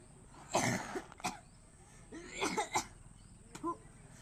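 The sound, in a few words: cough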